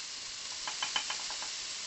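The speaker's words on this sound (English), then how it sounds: "We're going to bring this sauce to the boil once it goes in, so it's going to spit and it's going to be heavy." Soy and Seville orange sauce sizzles with thin strips of steak in a stir-fry pan, a steady broadband hiss with a few brief spits and pops near the middle, fairly quiet and with no talking.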